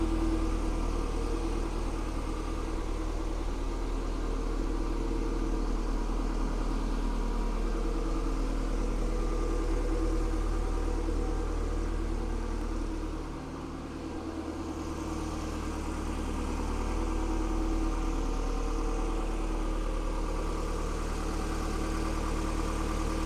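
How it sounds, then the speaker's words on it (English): A W20 Toyota MR2 engine idles steadily at a little over 1,000 RPM with a low, even rumble throughout, dipping briefly for a moment before settling back to the same smooth hum. "And the engine sounds absolutely phenomenal."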